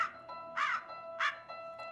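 A crow caws two loud, harsh calls about half a second apart, standing out clearly against a quiet background with faint tonal hum.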